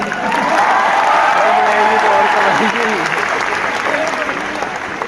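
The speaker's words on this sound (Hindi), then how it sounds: "तालियों में आवाज आनी चाहिए" A large audience breaks into loud, sustained applause that swells and holds as a dense roar of clapping, with scattered voices and cheers mixed in.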